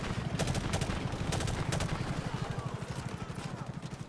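Rapid automatic gunfire from the video game Call of Duty: Modern Warfare Remastered rattles in fast, steady bursts, loud and continuous, with a few sharper single shots mixed in.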